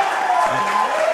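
A wrestling crowd cheers and applauds loudly after a moonsault, a dense, continuous roar with a commentator talking over it.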